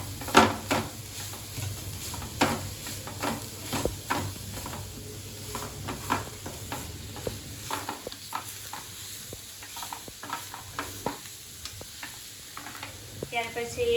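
A spoon stirs garam masala and coriander-cumin powder into momo filling in a hot pan, repeated scraping knocks against metal over a low sizzle, close and uneven in rhythm.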